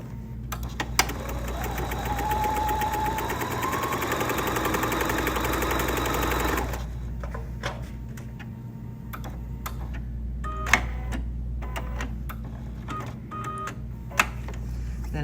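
A sewing machine stitching quarter-inch side seams on a fabric wall bucket, a fast steady whirring rattle for about seven seconds, then stopping, followed by scattered clicks and light handling taps.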